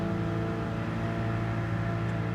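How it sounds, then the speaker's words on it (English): Car engine in a racing video game droning steadily at a moderate level, a faint rival car heard off to the side during a race around Trail Mountain. "I thought I could hear Unfazed's car on the left-hand side here."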